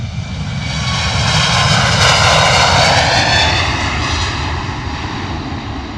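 Loud jet roar from an Airbus A321neo taking off into mist at London Luton Airport, swelling to a peak with a sweeping whine as it rotates early and passes, then easing slightly as it climbs away.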